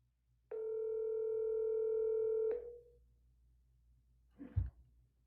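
A phone line gives one steady two-second tone, close and clear, followed by silence and a brief low thump.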